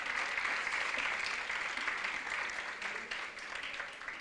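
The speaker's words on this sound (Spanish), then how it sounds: "yo quiero que ustedes se den un aplauso" Applause from a university debate audience, a dense wash of clapping heard from a distance, steady for about four seconds and slowly fading.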